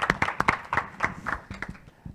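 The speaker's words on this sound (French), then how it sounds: "je crois qu'on peut même applaudir Loïc" A small group applauding in short bursts of uneven, scattered claps, fairly close and lively, with no talk over it.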